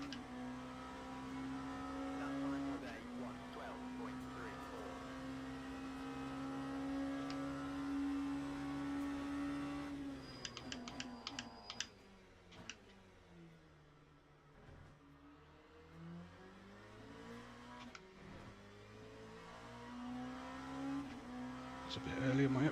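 A race car engine in the Le Mans Ultimate sim racing game holds a steady high whine, then drops abruptly as it shifts up from first to second and climbs again, with faint clicks, no talking.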